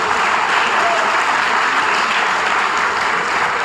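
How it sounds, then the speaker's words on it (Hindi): Loud, dense applause from a large audience at a youth rally on direct selling in Goa, sustained steadily throughout with no pauses. "इसलिए मैं चाहता हूं कि एक बार मोरल ग्रुप ऑफ कंपनी के लिए जोरदार तालियां बजाया जाओ दोस्तों।"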